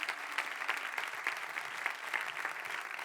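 A church congregation applauds during a sermon, a steady wash of many hands clapping at moderate level, continuous throughout with no voices on top.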